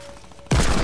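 Gunfire erupts abruptly in Fortnite, a loud dense burst of shots that arrives after a brief quiet stretch and keeps going to the end.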